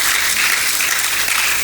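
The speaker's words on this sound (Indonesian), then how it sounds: "Tepuk tangan untuk Tuhan kita" A church congregation at a youth spiritual service applauds God, a loud, dense burst of many hands clapping together, sustained and even from start to finish.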